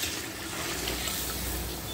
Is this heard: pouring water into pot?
yes